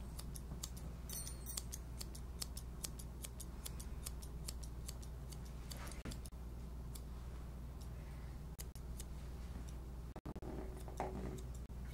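Scissors snip steadily through a Bedlington terrier's coat during grooming, a rapid, regular run of small crisp cuts over a low constant hum, with no talking.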